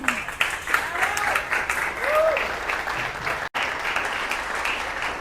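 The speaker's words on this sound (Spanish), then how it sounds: "Por favor, recibámosla con un fuerte aplauso." Audience applause at a conference on peacebuilding in the digital age, steady clapping from a seated crowd for about five seconds with a brief break near the end.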